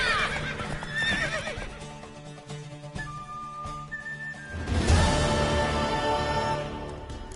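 A horse in the video game The Witcher 3 neighs with a shrill, wavering whinny, then gives a second, louder whinny over hoof clip-clops and game music.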